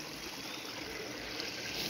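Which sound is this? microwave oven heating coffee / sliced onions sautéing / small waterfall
small waterfall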